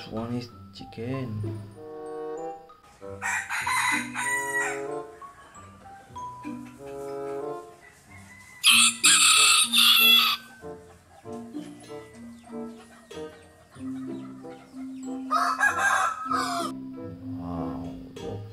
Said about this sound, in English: This one is chicken.